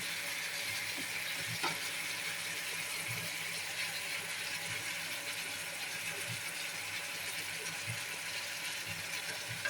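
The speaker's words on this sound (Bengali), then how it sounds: "প্রথম চিংড়ি মাছটা আমি একটু ভুনা করে নিয়েছি, তারপর আমি সবজিগুলো দিয়ে দিয়েছি। এখন আমি একটু কষাবো" Shrimp and vegetables sauté in a pan, giving a steady, quiet sizzle with occasional soft scrapes and taps from stirring, and no voices.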